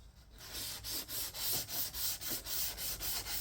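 Sandpaper rubbed by hand over a rust-repair spot on a 2018 Ford Escape, steady rhythmic back-and-forth strokes about three per second, close and clear with no talk.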